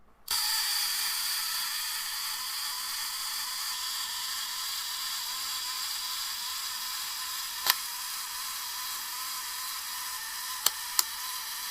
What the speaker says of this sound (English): I could sit there and just wind that camera and just keep firing it.